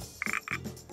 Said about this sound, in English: We have Pacific tree frogs in our greenhouses. Well, when it's raining, the frogs croak a lot